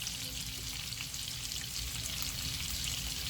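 Shrimp sautéing in a pan for Sicilian shrimp scampi, a steady, fairly quiet hiss and crackle of frying that stays even throughout.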